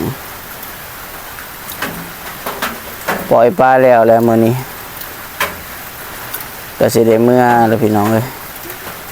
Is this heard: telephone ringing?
no